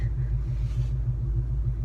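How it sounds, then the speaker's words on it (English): Ford Mustang shaking from a bad engine mount while driving: a heavy, low rumble with a steady throbbing pulse underneath, close and continuous throughout. "I hate this mount. So you're probably gonna hear a lot of shaking."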